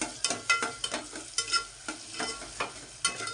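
Onions frying in a pan for a chicken wings curry, a steady soft sizzle broken by repeated sharp scraping strokes of a spoon at a loose, uneven rhythm, close and fairly quiet.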